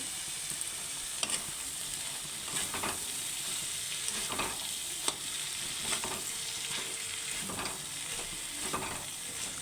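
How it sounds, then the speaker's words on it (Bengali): Cabbage with spices and salt sizzles in a pan while being stirred, a steady close frying hiss broken by regular scraping strokes of the spatula, no talking. "ভালো করে নাড়াচাড়া করে নিলাম"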